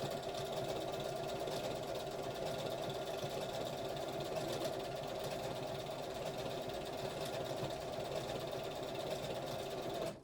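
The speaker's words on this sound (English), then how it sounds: "I'm just going to put my stitch guide on the top of my cup. So I'm stitching down both sides." Sewing machine stitching down both sides of a piece with a stitch guide fitted, a continuous even mechanical whirr and rapid needle rattle at moderate level throughout, no voices.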